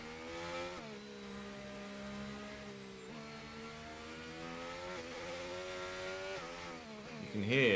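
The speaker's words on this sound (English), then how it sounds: "You can hear the amount of wheel spin I'm getting just in the engine tone." A Formula 1 car in the F1 25 racing game holds a steady high engine drone with the rear wheels spinning, its pitch stepping up and down through gear changes and rising to a louder burst at the end.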